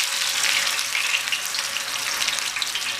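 Potato chapli kababs frying in hot oil over a low flame, a dense, continuous sizzle with crackling bubbles, close and steady throughout with no talking.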